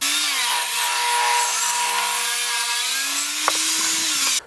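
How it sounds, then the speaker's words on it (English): A table saw rips a wood board, its blade holding a loud, steady whine with slight dips in pitch as the cut loads it, then a brief knock near the end before it stops. "I'm just going to rip an inch off this real quick."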